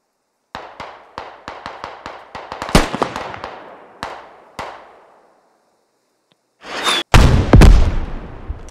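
Gunfire in the military shooter game Squad: a rapid string of sharp, close shots with ringing tails, a pause, then a louder cluster of blasts and heavier bangs near the end.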